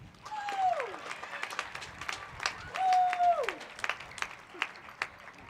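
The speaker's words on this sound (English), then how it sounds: "let's give us a round of applause" A graduation crowd applauds, a broad wash of clapping with a couple of rising-and-falling whistles cutting through and a few voices mixed in.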